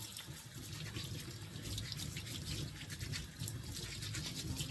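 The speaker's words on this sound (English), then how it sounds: "And I'm just going to scrub this potato up." A brush scrubs a potato under running tap water at a sink, a steady rushing stream with continuous bristle scratching, close and fairly even throughout, no talking.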